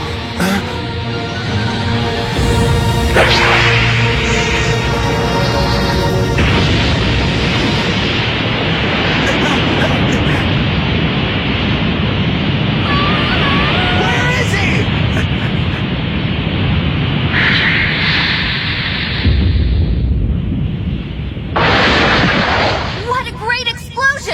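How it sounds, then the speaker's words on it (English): Several sticks of dynamite blast Kurama in a Yu Yu Hakusho Dark Tournament fight, a dense, loud run of booming explosions and rumbling debris packed together under game music and sound effects. "Has just pelted Kurama with several sticks of dynamite"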